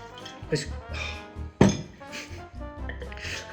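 Glassware clinks while a bottle of Burgundy-style Pinot Noir is opened, giving a few light chimes and one sharper ring in the middle, all under steady conversation.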